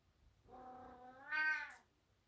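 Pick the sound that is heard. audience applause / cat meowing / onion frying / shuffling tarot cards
cat meowing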